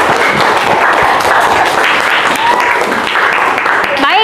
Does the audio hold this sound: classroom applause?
yes